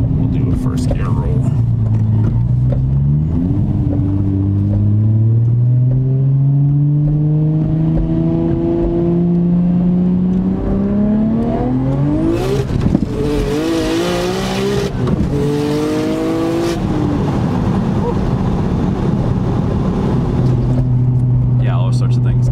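A 660hp R32 GTR pulls hard through a first gear roll, its engine note climbing steadily in pitch, with a sharp shift-like break midway, then settling into a lower drone, heard from inside the car with a voice mixed in.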